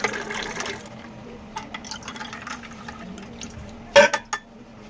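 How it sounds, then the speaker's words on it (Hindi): Water trickles and splashes into a glass of raw mango sharbat over ice cubes, with a brief clinking burst near the end against a faint background hum. "अब हम डाल लेंगे इसमें थोड़ा सा पानी"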